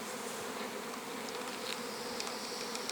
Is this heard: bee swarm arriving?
yes